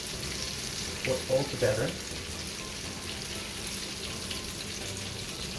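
Eggplant omelette frying in oil sizzles steadily in a pan, with a brief stretch of speech over the hiss.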